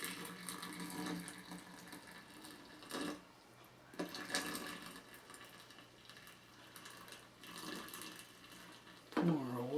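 Near-boiling water runs from a kettle into a Wear-Ever Ideal immersion coffee pot, a quiet gurgling stream with a few brief clunks and a low hum, with a voice speaking over it.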